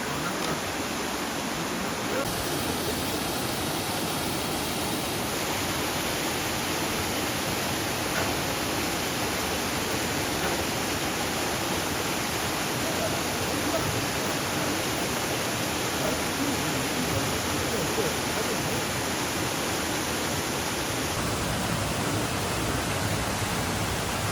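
A valley waterfall at Sogeumgang on Mt. Odaesan pours in a dense, unbroken roar of falling water, loud and steady throughout, with no voices.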